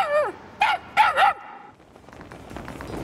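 A Shiba Inu from the video game Humanity gives a few quick yipping barks up close, then falls quiet as faint ambient sound follows.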